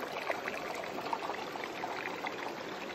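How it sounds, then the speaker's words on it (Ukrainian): A small Ukrainian mountain stream, the Lopushna, runs in a faint, steady trickling wash, quiet and continuous with no voices. "А ось ще одна річка гірська. Вона називається Лопушна чи Лопушна."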